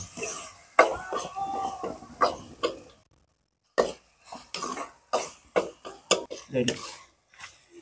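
A metal ladle crushes tomatoes into frying okra in a pot, giving irregular scraping and clinking knocks in short bursts with a brief pause, close by.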